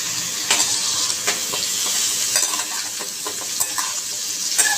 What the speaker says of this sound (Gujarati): પનીરને સરસ રીતે મિક્સ કરી લઈએ.